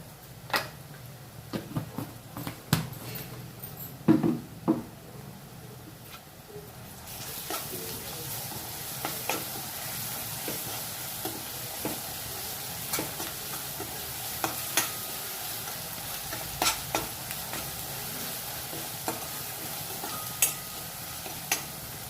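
Ginger garlic paste fries in a pan for liver curry, giving a continuous sizzle that grows fuller partway through, with frequent close taps and scrapes of a stirring spoon against the pan.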